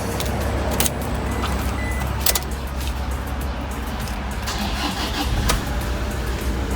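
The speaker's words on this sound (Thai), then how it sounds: "เดี๋ยวผมจะมาสตาร์ทให้ฟังเสียงเครื่องกันนะฮะ" A 2011 Toyota Fortuner 2.5 G is started with a few brief clicks and a crank, then its engine settles into a close, steady, even idle.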